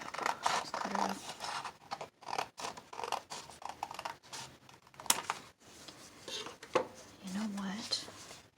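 Scissors snip through a paper tag by hand, a run of short crisp cuts and scratchy rustles at close range, with a voice speaking briefly between the cuts.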